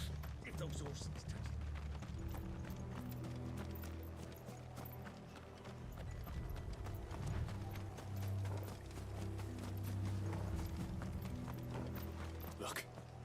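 Horses galloping in the video game Final Fantasy XVI, a steady run of clip-clop hoofbeats with creaking tack, under game music and spoken dialogue.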